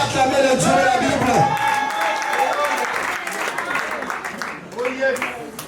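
A church congregation applauds and cheers during a French-language worship service, a dense wash of clapping and voices mixed with a preacher's amplified speech, swelling at the start and again near the end.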